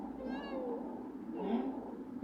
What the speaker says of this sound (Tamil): ஏய் குட்டி மியா இங்கே வாருமா